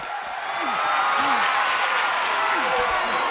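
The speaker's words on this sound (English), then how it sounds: "What a raucous crowd here tonight." WWE 2K25 wrestling crowd cheering and applauding loudly in a steady, dense roar, with a commentator's voice weaving through it.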